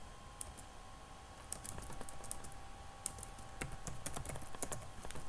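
Rapid, uneven clicks of typing on a computer keyboard, close and fairly quiet over a low steady hum, with bursts of keystrokes spread across the whole stretch and no talk.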